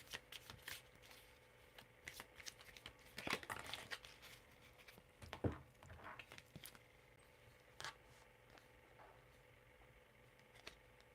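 Tarot cards shuffled by hand during a live reading, giving a soft, irregular run of riffling and flicking bursts up close, with quiet pauses between the handfuls.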